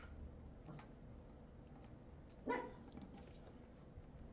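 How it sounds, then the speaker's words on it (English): A single short dog bark, fairly faint and distant, over a quiet hum of background noise. "What are you barking at, little man?"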